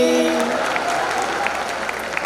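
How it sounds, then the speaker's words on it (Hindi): Audience clapping at a Hindi comic poetry gathering at Tapti Mahotsav after a bhajan ends, a sustained crowd patter with a voice over it at first. "तालियां बजाइए"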